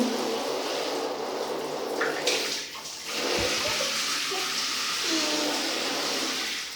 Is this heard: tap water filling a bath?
yes